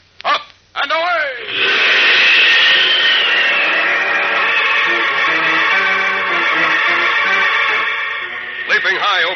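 A radio-drama sound effect of Superman taking off and streaking through the sky: a loud, rising whoosh that swells into a sustained roaring rush for several seconds, then fades, with a voice briefly at the start and end.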